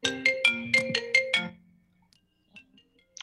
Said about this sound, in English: someone's calling my phone